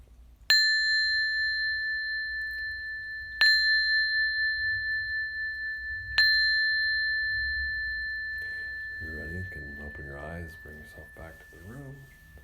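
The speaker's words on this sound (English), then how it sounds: "A few moments, I'll ring the bell." A meditation bell rings three times with clear, sustained metallic tones, each strike fading slowly into a quiet room, with soft speech starting toward the end.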